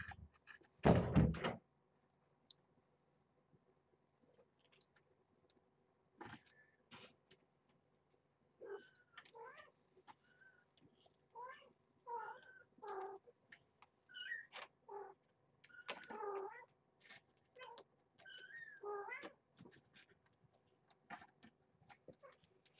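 Kittens meow in a string of short, high, wavering cries scattered over the later part, moderately close, after a heavy door thud at the start; no talking.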